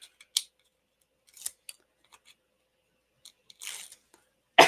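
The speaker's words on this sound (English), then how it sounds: "release paper off the back of these." Release paper being peeled off the backs of die-cut paper craft pieces, heard as a few scattered short crisp rips and rustles separated by silences, ending in a louder close crackle.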